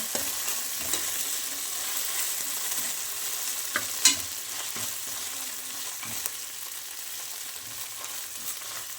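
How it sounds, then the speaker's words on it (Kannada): Ginger garlic paste frying in oil for a mutton biryani gives a constant soft sizzle, with occasional spoon taps and scrapes against the pan, heard close with no voices. "ಶುಂಠಿ ಬೆಳ್ಳುಳ್ಳಿ ಪೇಸ್ಟು ಚೆನ್ನಾಗಿ ಹಸಿ ವಾಸನೆ ಹೋಗಬೇಕು ಈ ಥರ ಎಣ್ಣೆಯಲ್ಲಿ ಫ್ರೈ ಆಗಬೇಕಿದು"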